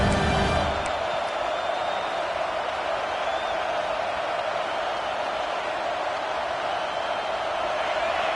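A college football stadium crowd roars in a sustained, dense wash of cheering as fans rally the defense, loud and continuous without a break.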